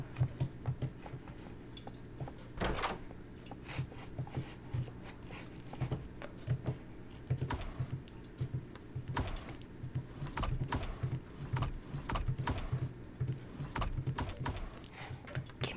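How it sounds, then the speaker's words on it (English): Typewriter keys clacking in the Roblox horror game Doors, a run of quick mechanical taps at an uneven pace over a low, steady game ambience. "Let's type on this typewriter"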